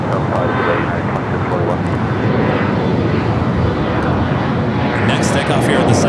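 A Turkish Airlines airliner taxiing at Los Angeles LAX airport, a steady loud engine roar and rumble held throughout, with radio talk over it.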